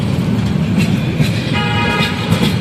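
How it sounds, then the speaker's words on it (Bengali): A train passes close by at a road crossing, a loud continuous rumble and rattle with a sustained horn-like tone sounding midway. "আমাদের গোলের মাথায় এই ট্রেন যাবে"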